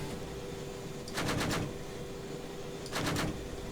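Two short bursts of rapid automatic cannon fire from an AH-64D Apache helicopter gun in Arma 3, each lasting about half a second, with steady background engine drone between them and no talk.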